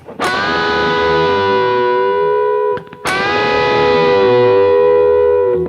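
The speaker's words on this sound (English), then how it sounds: "when I release the bend, there is a ghost note going on." A distorted electric guitar note sustains and bends, ringing out twice with a faint ghost note sliding in as each bend releases; loud, no voices.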